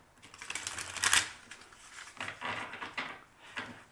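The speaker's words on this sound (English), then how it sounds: "Shuffling a little bit more." A deck of cards is shuffled for a reading, giving close, crisp riffling and papery slaps, with one sharp flurry early on followed by softer rustling shuffles.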